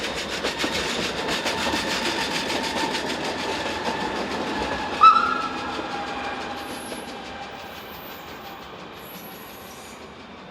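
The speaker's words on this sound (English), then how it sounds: "Unit number 123 enters the station from Zweisimmen, where it will join with the service from Brieg." A BLS regional train unit entering a Swiss station, wheels clattering rhythmically over rail joints, then a sharp squeal as it brakes and the rolling sound fades into a quieter, slowing hum.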